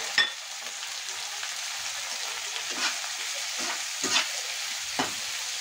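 Green chilies, ginger and coriander stems sizzle in a hot pan with tomatoes for homemade matar paneer, a steady close frying hiss broken by a few soft stirring scrapes.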